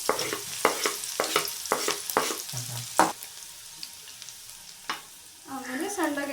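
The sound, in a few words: green chillies and garlic frying in hot oil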